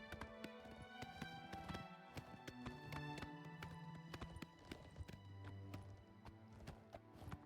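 A horse trots in Oblivion with a run of crisp clip-clop hoofbeats, while game music with sustained tones plays underneath.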